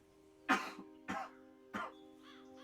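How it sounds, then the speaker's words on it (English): Three short, close coughs come about half a second apart, fairly quiet, with no talk around them. "I got a cough."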